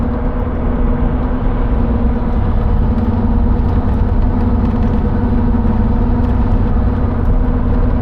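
Dodge Ram truck on 37-inch tires cruising at 60 mph, a steady low engine drone and road rumble filling the cabin, constant and even throughout with no talking.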